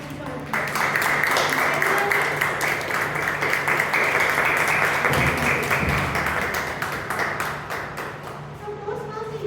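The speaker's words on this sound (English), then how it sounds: "Please welcome Toastmaster Yashwant with a 3 round of applause." Applause at a Toastmasters meeting as a speaker is welcomed, with a room of people clapping steadily in dense, sustained rounds that ease off slightly near the end.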